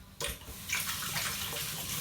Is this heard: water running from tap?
yes